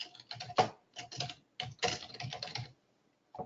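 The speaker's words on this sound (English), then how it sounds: "you simply go to generate signature and you start typing your name" Name being typed on a computer keyboard: bursts of quick, close key clicks in uneven runs with short pauses, then a lone final tap after a gap.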